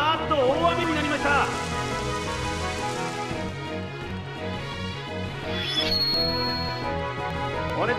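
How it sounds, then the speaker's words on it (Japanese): Heavy rain falls in a Pokémon Stadium Gold and Silver battle as a steady hiss beneath looping, bright game music, with a couple of short electronic effects rising over the mix. "あーっと大雨になりました。"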